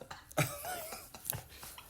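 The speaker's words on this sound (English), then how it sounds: "Oh, there's that cough." A single person coughs in a couple of short, rough bursts close to the microphone, separated by a brief pause in a quiet indoor space.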